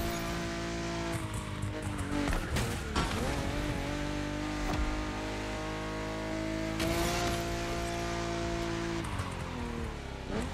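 A Porsche 911 Carrera RS 2.7 in the racing game The Crew Motorfest drives flat out, its engine roaring steadily with rising and falling revs and a few brief tire squeals.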